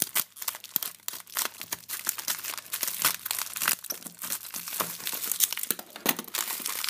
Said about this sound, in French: c'est entouré dans du papier bulle, donc c'est vraiment super